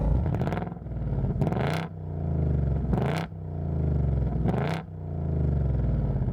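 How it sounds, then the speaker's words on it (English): A 2025 Mustang GT Dark Horse V8 revs loudly and close up at a Cars and Coffee meet, its deep roar swelling and easing in four repeated rev cycles with a sharp burst at each peak. "The sound alone is an event, a proper unapologetic V8 roar."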